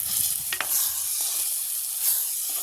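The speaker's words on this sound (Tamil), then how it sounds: "எல்லாத்தையும் செய்து கிண்டி விடுவோம்" Curry with curry leaves is stirred in a pan over a constant hiss of sizzling oil, with a couple of brief scraping strokes, heard close with no talk.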